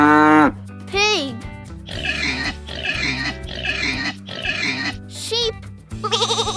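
A pig oinks and grunts in a run of several snorting calls over steady background music, with a short sung or spoken phrase before and a bright tonal sound after.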